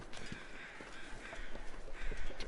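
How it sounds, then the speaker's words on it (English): Crows caw in the survival video game The Long Dark, hoarse repeated calls at a moderate distance over a steady wind-like wash, no talking. "Yeah, I hear you, crows."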